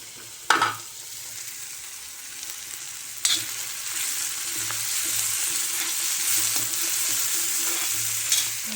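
Coriander crackles and sizzles in hot oil in an iron pan, a steady close frying hiss broken by a few sharp pops and stirring scrapes, with no talking.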